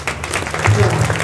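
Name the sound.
audience applause for the kirtan performers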